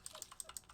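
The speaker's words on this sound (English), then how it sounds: "Y'all get to listen to my brand new keyboard as it clicks away." A brand new computer keyboard clicking away, with a quick run of about eight light, crisp keystrokes in an irregular rhythm, close but quiet, with no voices.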